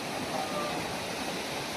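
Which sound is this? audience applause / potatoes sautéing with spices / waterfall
waterfall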